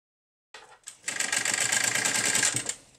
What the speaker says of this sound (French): Je repasse sur ma première couture, cela me sert de nœud, pas besoin de faire plusieurs allers-retours.